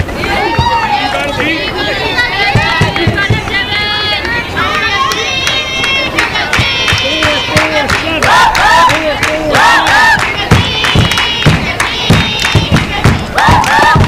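A softball dugout crowd cheers and chants loudly and continuously at a high school game, voices rising in rhythmic calls and shouts, with sharp claps or bangs punctuating the noise.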